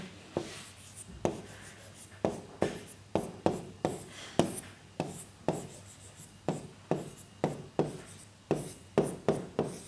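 Chalk or marker strokes tap and scratch across a board as math is written, a quiet, close run of short, rhythmic scrapes repeating steadily with brief pauses between symbols.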